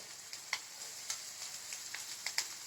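A soft, steady sizzle of spring onion greens frying in oil, dotted with light scrapes and taps of a spoon stirring, quiet and without speech.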